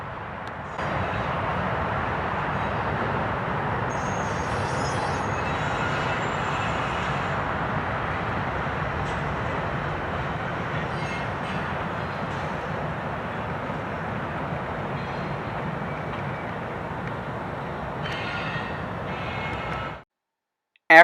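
Freight train hauled by locomotives passing in winter, a long steady rumble and rushing roar at moderate distance that holds evenly for about twenty seconds before cutting off abruptly.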